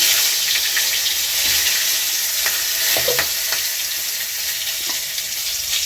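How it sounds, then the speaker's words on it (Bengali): Cinnamon, cumin, dried chilli and bay leaf frying in oil for a vegetarian khichuri spice base, a steady close sizzle with occasional stirring clicks and small pops. "মশলাটা এবার কষে নেব। দারচিনি দিয়ে দিলাম, জিরে দিলাম, শুকনো লঙ্কা, তেজপাতা"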